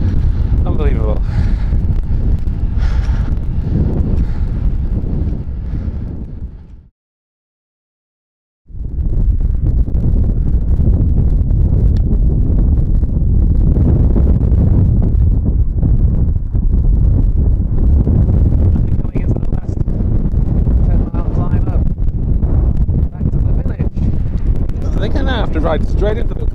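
Heavy wind roars across the microphone while cycling on an open road through sagebrush in the Mammoth Gran Fondo, a loud continuous rush broken by one short quiet gap, with speech partly under it.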